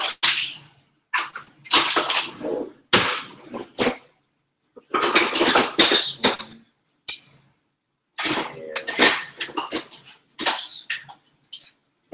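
Kitchen utensils clatter and scrape in repeated bursts as someone rummages for a spatula beside a skillet, with short gaps of quiet between the loud, close rattling clusters.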